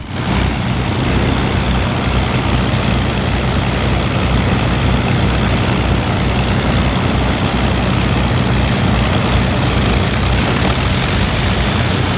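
The number 1 engine of a Lancaster bomber drones loud and close, a steady, rumbling propeller roar that holds constant throughout.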